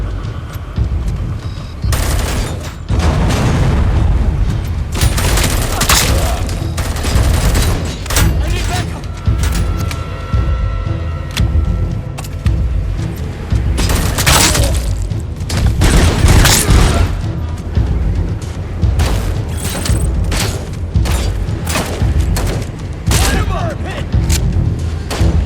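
Assault rifle fire in a Robocop shooter game, with dense bursts and heavy booms packed across the whole stretch, loud and continuous over a game soundtrack.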